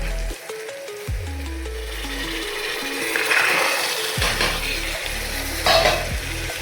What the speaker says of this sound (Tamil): இதை நல்லா வதக்கி விட்டுட்டு